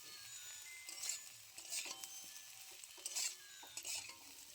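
Potato and soybean stir-fry in a pan, with faint sizzling under repeated scraping and stirring strokes of a spatula, in short irregular bursts.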